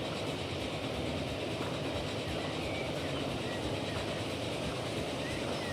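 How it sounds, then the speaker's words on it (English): A train in the Transport Fever 2 game rolls past on nearby track, a steady loud rumble with faint rhythmic rail clatter and broadband wheel noise filling the full length, no pause. "Here comes the other train."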